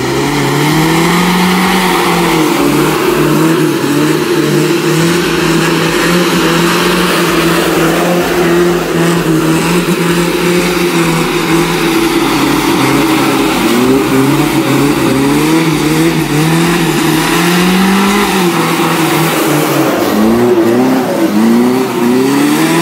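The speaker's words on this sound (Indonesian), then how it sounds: "yang SGX ini lebih banyak dimainin ya mesinnya" A Toyota Kijang SGX car engine revs repeatedly, rising and falling in pitch over a steady loud idle, with no talking.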